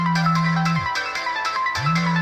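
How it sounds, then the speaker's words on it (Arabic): A phone rings loudly and close by, its repeating melodic ringtone cycling in patterned bursts over a low sustained tone. "تليفونك بيرن"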